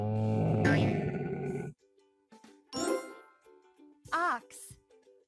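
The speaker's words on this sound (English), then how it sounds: "Camel." A camel grunts and groans in several low, rough bursts separated by pauses, with a short bright chime-like tone between them and no speech.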